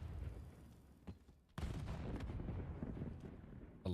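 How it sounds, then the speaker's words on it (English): Frag grenades and gunfire in a Call of Duty esports match, a quiet, busy background of booms and shots that cuts out briefly and then resumes, ending in a sharper burst. "A lot of frags going off in the background there"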